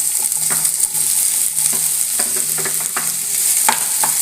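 Cut vegetable pieces for sambar, including ash gourd, potato and elephant yam, sauté in hot oil with a steady bright sizzle, broken by occasional scraping stirs and clinks from a spoon against the pan.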